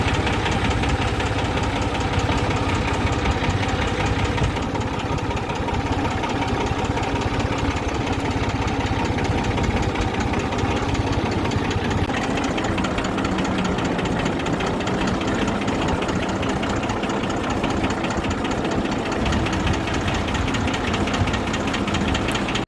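A farm tractor, brought out to load harvested maize in a village field, runs steadily and loudly for the whole stretch with a constant rough engine drone and no voices.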